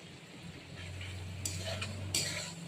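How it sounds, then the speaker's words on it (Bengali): Potatoes and pointed gourd sautéing in hot oil, a soft sizzle with clinks of a utensil against the pan and a couple of brief bright hisses. "তেলটা হয়ে গেছে মনে হচ্ছে এবার আলু পটলগুলো দিয়ে দেবে দিয়ে সাঁতলাবে"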